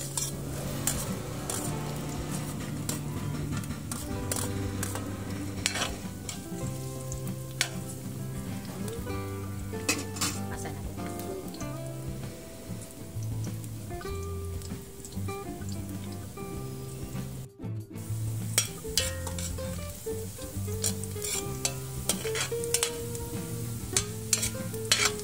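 Garlic sautés in hot canola cooking oil in a pan, a steady close sizzle with frequent stirring scrapes and clinks of a utensil against the pan throughout.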